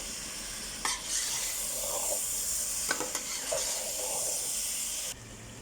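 Biryani masala with three green chillies and coriander being stirred and mixed in a pot, soft sizzling hiss broken by a few sharp spoon scrapes and clinks, fairly quiet and close.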